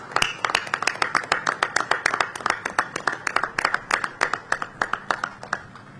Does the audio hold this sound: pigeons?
no